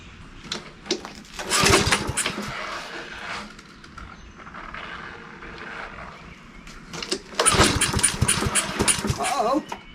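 An abandoned Husqvarna AWD riding mower's engine cranks in two loud bursts of churning, sputtering turnover separated by a quieter stretch, with people talking throughout.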